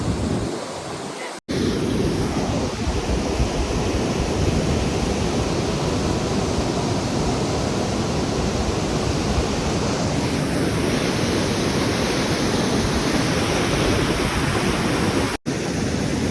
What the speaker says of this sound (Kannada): ನೋಡ್ರಿ ಇದು ವಾಟರ್ ಫಾಲ್ಸ್.